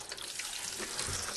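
Water runs steadily from a tap into a pot being filled for homemade chicken stock, a continuous close rushing splash with no talking.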